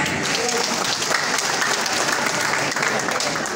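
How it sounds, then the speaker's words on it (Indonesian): Applause from a crowd of volunteers at an inauguration event in Jakarta, a dense, steady wash of many hands clapping continuously and loudly throughout. "Tepuk tangan."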